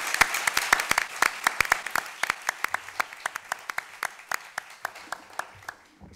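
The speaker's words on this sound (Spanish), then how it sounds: "Miguel, un aplauso para él." Applause for a guest at a book launch event for an illustrated album, with sharp, distinct claps at a steady pace that thin out and fade toward the end, close and moderately loud.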